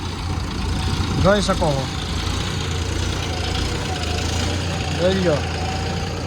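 A John Deere tractor engine runs at a steady low idle with a working implement attached, a continuous rumbling drone close by under two short bursts of talking.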